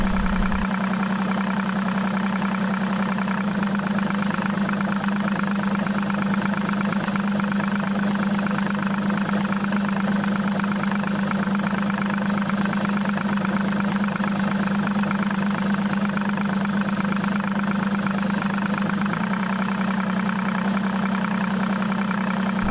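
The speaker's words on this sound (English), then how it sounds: "you should have noticed a drop in engine RPM and a change in the sound and the running quality of the motor" An Evinrude E-TEC outboard motor runs steadily with the ignition on cylinder 1 disabled for a diagnostic test, giving a continuous, loud droning engine hum that shifts slightly in tone partway through and near the end.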